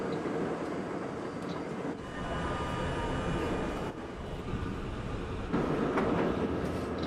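An R32 subway train rumbles past in a continuous, fairly loud roar with rattling wheel noise, swelling slightly toward the end, with no voices.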